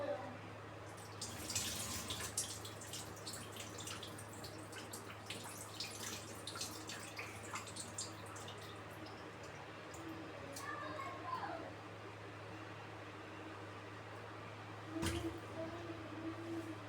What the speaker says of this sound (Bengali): চাউলগুলো ধুয়ে নিচ্ছি।